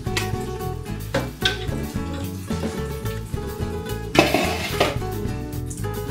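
Food stirred in a metal pot in a home kitchen, the spoon scraping and clanking against the sides in a steady loud rhythm, with a faint sizzle beneath and occasional sharper clinks.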